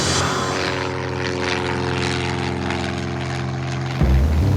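Small propeller aircraft engine droning steadily and loudly in flight over Las Vegas, a continuous close buzzing hum throughout with a brief surge near the end.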